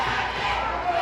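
A wrestling crowd at a Big Valley Wrestling gauntlet match cheers steadily as two competitors size each other up, a dense continuous roar of voices with no pauses.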